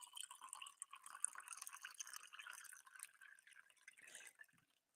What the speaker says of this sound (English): That's filling up a water cup.